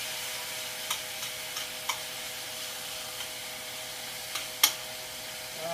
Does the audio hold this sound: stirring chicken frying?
yes